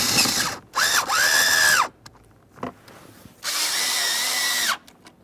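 A power drill drives the lower glove box mounting screws in a 2013-2020 Ford Fusion, giving three loud close whirring bursts that rise and fall in pitch, with a brief click between them.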